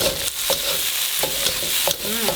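Shrimp fried rice with a generous handful of fresh Thai basil gets a final stir in a hot pan, with a steady sizzle broken by several sharp scraping strokes of the spatula, close and loud, and no talking.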